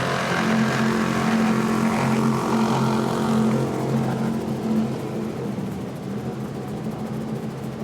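Twin Mercury 600 engines on a 2007 35-foot Donzi ZR powerboat, a loud, steady throbbing roar with a strong low hum that slowly fades as the boat moves away.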